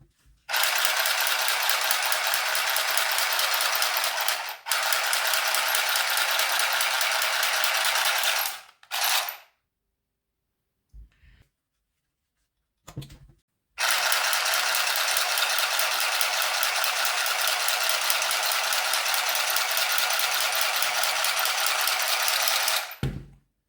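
An Easymaxx handheld sewing machine runs in two long bursts of loud, fast mechanical rattling, separated by a quiet pause with a few small clicks and handling noises.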